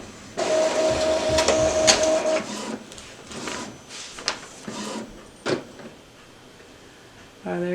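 An Epson ET-2720 inkjet printer runs a print job nearby, with a steady mechanical whir and tone at first, then intermittent clicks, carriage shuffles and paper-feed thumps, and speech in the background.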